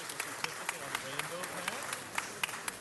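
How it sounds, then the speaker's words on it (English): A handful of scattered handclaps at a city council meeting, sparse and fairly faint, popping out over someone talking. "let's give her another round of applause"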